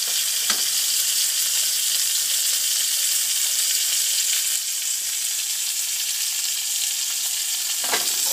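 A previously cooked dish being reheated in a very hot pan on a low flame sizzles loudly and continuously, with a couple of brief clicks along the way and no voices.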